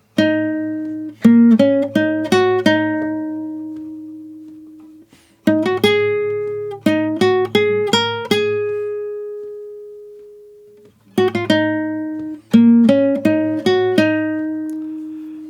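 Plucked guitar notes in standard tuning play the intro melody of the State of Decay 2 main theme in quick runs, three phrases separated by ringing pauses, clean and close with no voices.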